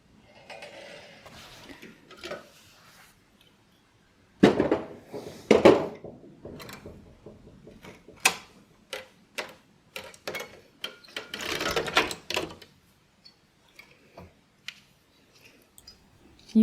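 Standard gauge knitting machine working bulky yarn, its carriage giving bursts of close clicking and clattering passes separated by quiet gaps, with scattered sharp ticks toward the end.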